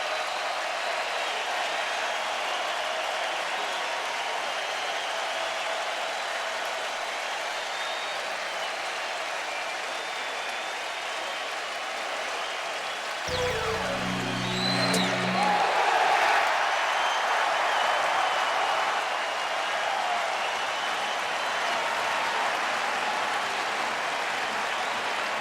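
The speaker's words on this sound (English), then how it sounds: "And this Cleveland crowd on their feet." A Cleveland baseball crowd at a 2007 playoff game roars and applauds in a steady, distant wash that swells partway through and stays loud to the end.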